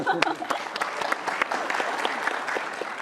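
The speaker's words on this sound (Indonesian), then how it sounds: "kita kasih tepuk tangan dong" Studio audience applauding during a televised Indonesian talk show, a dense patter of clapping with a few sharper individual claps standing out, steady and moderately loud throughout.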